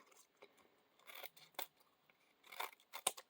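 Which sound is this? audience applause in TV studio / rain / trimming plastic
trimming plastic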